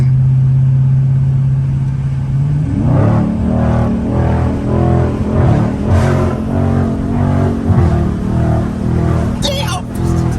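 A Dodge Scat Pack revs up from a steady low engine drone into hard acceleration with wheelspin, loud and close from inside the car, with people talking and exclaiming over the roaring engine.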